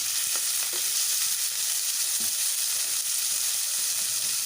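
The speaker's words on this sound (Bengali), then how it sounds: "এবার আমি কড়াইতে সামান্য তেল দিয়ে উচ্ছেগুলো ভেজে নেব।" Long-cut bitter gourd frying in a little oil in a wok, a dense, even sizzle that holds steadily at close range with faint stirring knocks and no talk.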